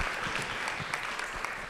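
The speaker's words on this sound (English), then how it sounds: "Give a round of applause to Dr. Christina Yao one more time." A conference audience claps after a keynote talk at a university symposium, with a steady, fairly faint burst of applause and no voices.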